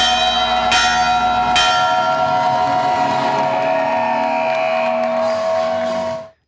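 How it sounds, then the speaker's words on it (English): A loud bell rings repeatedly after a Kent State basketball game, its bright metallic tones sustaining and overlapping, with a faint crowd murmur underneath before the sound fades out. "Kent State fans are getting used to hearing that bell after games."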